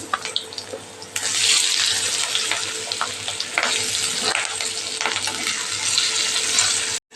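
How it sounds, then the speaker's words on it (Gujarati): Carrots, chilies and cabbage tip into hot oil for a Gujarati carrot-cabbage sambharo, bursting into a loud, steady sizzle with stirring scrapes on top that runs for about six seconds and then cuts off abruptly. "હવે ગાજર મરચાં અને કોબીને અહીંયા ઉમેરી દઈશું"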